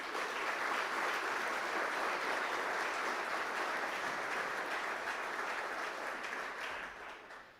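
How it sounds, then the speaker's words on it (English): At a government event, an audience applauds the caterer, Donnell's Kitchen, with sustained, even clapping from many hands that holds steady before fading near the end. "I say we need to give Donnell's Kitchen a grand round of applause for what they've did today"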